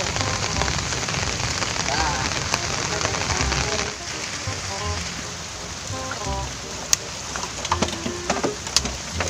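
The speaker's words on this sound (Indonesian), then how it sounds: "hujan euy" Steady rain pouring down around a small hut in the countryside, a loud constant hiss of drops drumming on the roof and ground, with occasional sharper drips and faint voices beneath.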